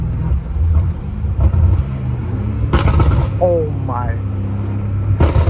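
BMW M5 Competition fitted with aftermarket downpipes, engine rumbling close and loud through a downshift, with sharp exhaust cracks and pops cutting through and a brief exclamation from the driver.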